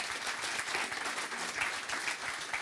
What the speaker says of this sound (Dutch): Mag ik een groot applaus voor professor Dr.